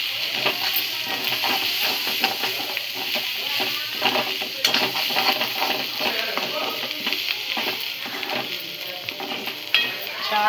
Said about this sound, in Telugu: ఇప్పుడు కొత్తిమీర వేసుకొని కలుపుకోవాలి